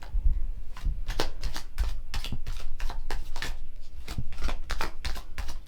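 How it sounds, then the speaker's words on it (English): Gloss-finish oracle cards being shuffled close up, a rapid series of crisp riffling and slapping bursts repeating steadily. "They shuffle really nicely, so they're a kind of a gloss finish, which means they shuffle really well."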